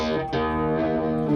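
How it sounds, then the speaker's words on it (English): A sustained, buzzing electric guitar note with harsh, gritty distortion that stays loud and thick, with a brief dip near the start. "it turns into that kind of digital,"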